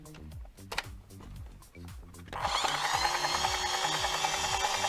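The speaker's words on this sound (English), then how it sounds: "Motorized winch." Motorized winch on a toy helicopter: a rapid ratcheting click of plastic gears, then a loud, steady mechanical whirring that runs to the end, close up with no talk.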